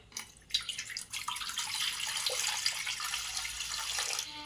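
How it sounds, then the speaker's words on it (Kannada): Water pours steadily into a metal idli steamer pot, a splashing, hissing stream that starts after a short pause and continues to the end. "ಇಡ್ಲಿ ಪಾತ್ರೆಗೆ ನೀರು ಹಾಕಿಡಿ"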